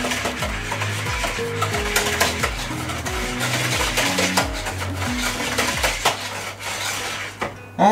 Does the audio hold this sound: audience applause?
no